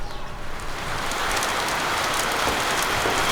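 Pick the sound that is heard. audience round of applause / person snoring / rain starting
rain starting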